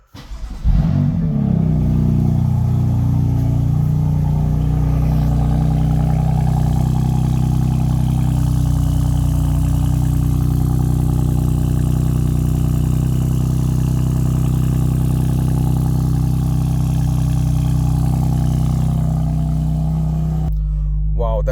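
A BMW M3/M4 (F series) engine cranks and catches, then runs loud and steady with a deep rumbling exhaust, held at high revs for a long stretch before cutting off, recorded indoors.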